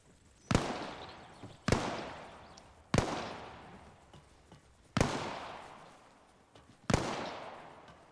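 Five sharp rifle shots ring out at uneven intervals during a fire-and-maneuver drill in Arma Reforger, each crack loud and close with a long echoing decay, no talk between them.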